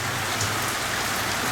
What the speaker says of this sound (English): It's absolutely pouring out here